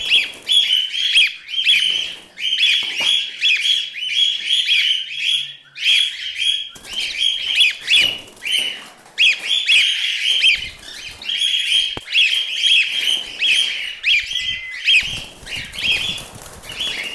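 A male white-faced cockatiel in a colony breeding setup gives loud, shrill, repeated chirping calls in rapid bursts, close by and continuing almost nonstop, with occasional wing flutters among other birds.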